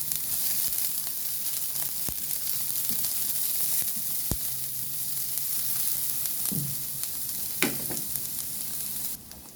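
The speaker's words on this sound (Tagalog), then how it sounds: "Nagagana rin yung aking bawang. Igisa lang natin ng saglit." Garlic sautés in a pan for ginisang sayote, a bright continuous sizzle filling the clip, broken by a few sharp utensil clicks and scrapes against the pan.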